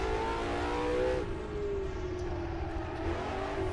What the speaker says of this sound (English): the small block Ford sound is just glorious in these cars